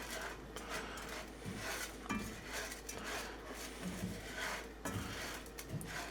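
A spoon stirs arborio rice coated in oil in a pot for mushroom risotto, giving soft, repeated scraping and clinking against the metal, fairly quiet and steady with no talking.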